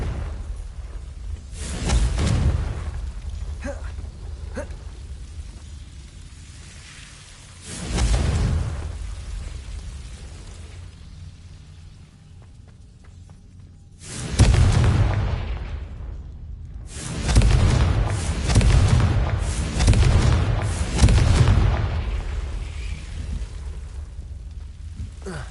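A Confringo explosion spell in Hogwarts Legacy goes off repeatedly: several deep booming blasts, each followed by a rumbling decay, in irregular bursts with quieter gaps between them.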